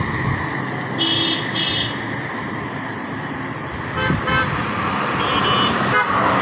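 Traffic rushes along a highway beside a roadside rest stop, two sharp horn toots near the start and a few more honks later over a steady engine rumble.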